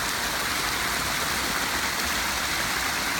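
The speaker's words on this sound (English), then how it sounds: "enjoying the sounds and feelings and smells, scents of this incredible Pondless Waterfall we just finished creating" Water from a newly built pondless waterfall spills steadily over stacked stone, a continuous, loud, broadband rushing and splashing that holds even throughout with no voices.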